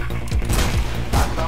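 Dense, loud gunfire in the video game Mirror's Edge, a continuous barrage of overlapping shots and booms with a voice speaking underneath.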